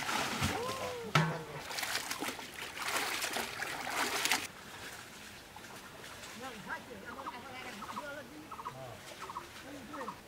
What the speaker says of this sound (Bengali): হ্যাঁ আমরা এই মুরগিটা সুন্দর করে ধুয়ে নেব।